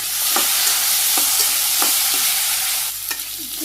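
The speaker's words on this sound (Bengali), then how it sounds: "কচু কষানো গেছে" Mankochu and mukhi taro frying with turmeric, salt and chilli powder in a pan, a loud steady sizzle with rhythmic spatula scrapes every half second or so, close up, easing off near the end.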